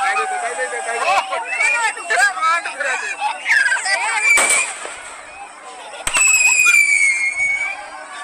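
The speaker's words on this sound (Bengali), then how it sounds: "আর এই আজকে রাত্রে অনুষ্ঠান বাজি পোড়ানো দিয়েই শেষ হয়।" Fireworks burst at a village Dharmaraj puja night, with sharp bangs and crackles and whistling rockets over a lively crowd of voices and chatter, loud and close.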